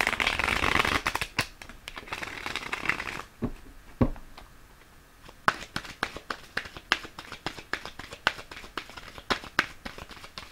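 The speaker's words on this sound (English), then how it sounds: "I just want to put one more shuffle on these" A deck of cards is riffled close up, a dense fluttering burst followed by a run of crisp snaps and taps as the shuffling continues.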